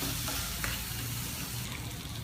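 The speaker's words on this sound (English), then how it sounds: "Also add in a little bit of dhania jeera powder. Stir it all together. Cook for just 1 or 2 minutes." Potatoes coated in dhania jeera powder sizzle steadily in a pan while being stirred, a continuous close frying hiss with faint scrapes and no talking.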